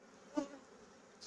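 Honeybees buzzing around honey-filled hive frames during autumn feeding, a faint steady drone with one brief louder pass up close.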